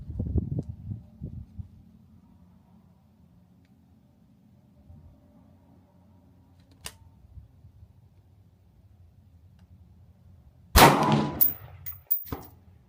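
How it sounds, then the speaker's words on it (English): A .223/5.56 rifle fires at long range with a loud sharp crack near the end, followed by a shorter report, after a long quiet stretch and a faint distant pop midway. "Let's shoot it again, just to show that the first one wasn't lucky."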